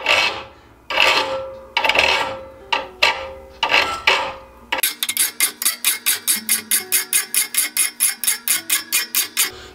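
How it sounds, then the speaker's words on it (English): A thread restoring file works the pilot threads of an auger bit in a rhythmic series of sharp metallic rasping strokes, first irregular and spaced, then a fast, even run of about twenty close, crisp strokes. "you want to roll the file around so that you're not just filing a flat"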